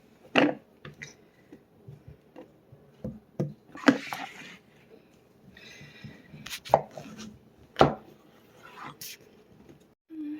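A knife chopping vegetables into small cubes on a cutting board, sparse sharp knocks spaced irregularly, close and clear against a quiet background with occasional speech.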